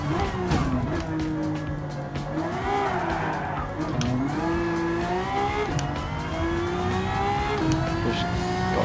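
A Porsche race car driving in Gran Turismo 7, its engine revving up and down through gear changes with tire squeal and skidding, loud and continuous.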